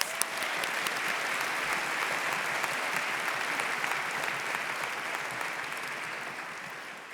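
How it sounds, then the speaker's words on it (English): Audience applause at a high school graduation ceremony, an even, sustained wash of many people clapping in a large space, heard from some distance and fading slightly toward the end. "so round of applause"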